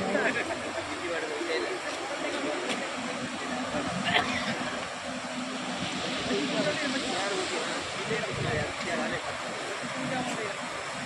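Loud, steady rush of a river in flood after a cloudburst in Hingoli, India, churning continuously close by, with a few faint knocks and indistinct voices in the background.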